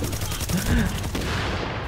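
Gunfire in Tom Clancy's The Division on PS4: a brief burst of several rapid shots over a dense, loud game soundscape, with a voice talking faintly beneath.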